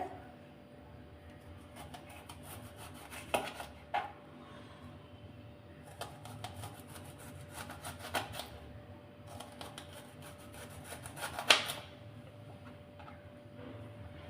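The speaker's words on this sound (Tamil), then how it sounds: "இப்போ வந்து இதை வந்து இந்த மாதிரி ரவுண்ட் ரவுண்டாக கட் பண்ணி எடுத்துக்கலாங்க" A knife slices a peeled onion into rings on a board, making bursts of quick, soft tapping cuts with brief pauses between them.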